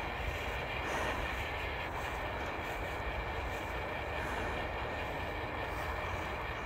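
A train pulls a C&O box car through a steady, continuous rumble of rolling wheels and rail noise that stays loud and even throughout, with no talking.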